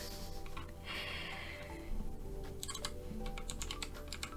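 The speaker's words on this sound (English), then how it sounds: "This is the drop control keyboard," Keys clatter in short bursts on a Drop CTRL tenkeyless mechanical keyboard, close but fairly quiet, after a soft breathy rush early on.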